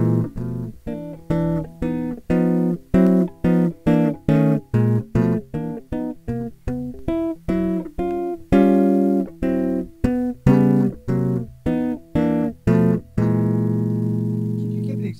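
Bass guitar played with two-handed tapping, a steady series of short, punchy, evenly spaced notes in a clear rhythm, ending on a held ringing note, with no talk.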